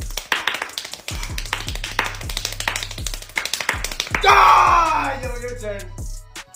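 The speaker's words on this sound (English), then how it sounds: "He can clap fast." Fast hand clapping in quick bursts of sharp, close claps over a regular thumping beat, with a loud shout or scream near the end.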